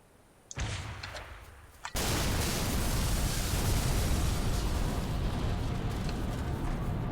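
A Nuke Launcher from Halo 3 fires with a sharp blast, a short rumble, then a second crack that opens into a massive, sustained roaring explosion filling the rest of the clip, loud and close.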